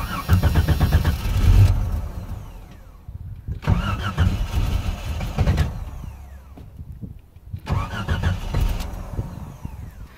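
A 1989 Jeep Cherokee, just fitted with a Banks Revolver header, cranking in three separate loud, close attempts with rhythmic starter churning and brief engine catches, quiet pauses between each try.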